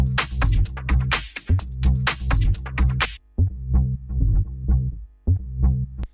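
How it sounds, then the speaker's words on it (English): Bass stem boosted with gain, summed to mono and run through an Arturia preamp, a punchy distorted bass line in a steady repeating pattern, brighter at first then darker and thumping. "I added gain to the bass, kind of put it in mono. I added Arturia's"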